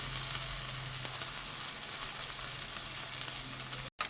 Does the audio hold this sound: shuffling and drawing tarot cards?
no